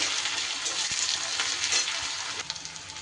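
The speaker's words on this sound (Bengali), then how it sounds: "বেশ বড়ো সাইজের একটা পেঁয়াজ কুচো করে রেখেছিলাম সেটা দিয়ে দিলাম" Chopped onion sizzles steadily in hot oil in a pan for a fish roe dish, a dense, bright, continuous hiss close up, with a few faint clicks near the end.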